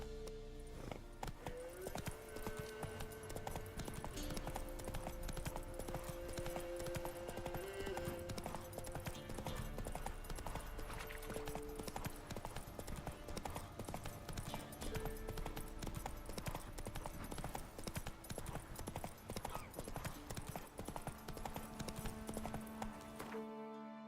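Steady clip-clop of horse hooves at a run in The Witcher 3 video game, continuous and loud throughout with occasional whinnies and game music layered over the galloping rhythm.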